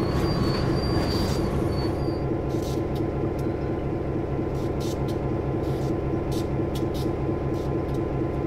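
Tank cars rumble and clatter steadily along the rails in Train Sim World 2 during switching, with a constant heavy drone, some high squeals early on, and no voices.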